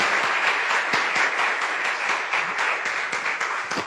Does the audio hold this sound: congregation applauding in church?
yes